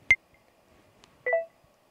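A phone camera countdown timer gives two short electronic beeps in a quiet room, a single tone first and then a longer two-part tone about a second later.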